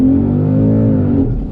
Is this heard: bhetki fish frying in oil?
no